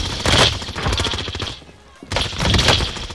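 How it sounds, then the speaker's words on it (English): Warzone gunfire: two loud bursts of rapid automatic fire separated by a brief lull, close and harsh with a dense rattling rhythm. "Under hostile fire."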